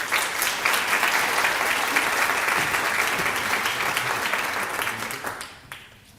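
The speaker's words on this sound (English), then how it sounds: "Please give a round of applause for Mayor Joe Petty." A hall audience at a city awards evening in Worcester claps for Mayor Joe Petty, dense sustained applause that holds steady and then fades out near the end.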